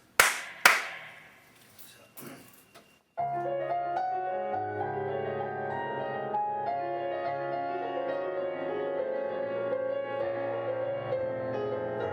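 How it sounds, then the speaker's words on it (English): A few sharp hand claps ring out, then a sustained, resonant keyboard tone with layered pitches carries on steadily for several seconds. "If you clap your hands, you hear it resonate as an ordinary piano would."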